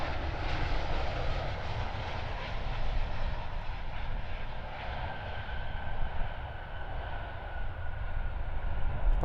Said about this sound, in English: It's Boeing 737 MAX flying MXD 196 Auckland, Perth, Kuala Lumpur.